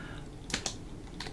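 A few quick keystrokes on a computer keyboard while navigating the file system during a Linux install, two close taps then another soft tap, faint and alone against quiet room noise.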